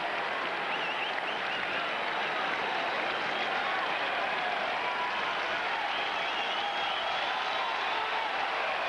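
A baseball crowd at a Dodgers vs Red Sox game applauds steadily throughout, a broad, sustained wash of clapping and cheering from a large stadium audience, with a commentator's voice faintly underneath.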